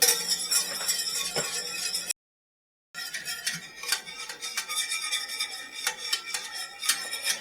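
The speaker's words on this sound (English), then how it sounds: "Now, I'm whisking it pretty much continuously here" Continuous whisking of a cherry cordial ice cream base in a pot on the stove, with a busy metallic clatter and scraping that breaks off briefly, then resumes with irregular clicks and taps.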